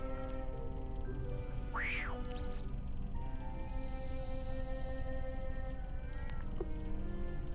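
Pet cat meowing while chasing vermin in the video game RuneScape 3, one rising mewl near the start over a steady game music bed, with a short clink of effects afterward.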